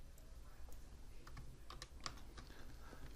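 Rapid, uneven clicks of keys on a computer keyboard as code is typed, close and fairly soft, with no talking.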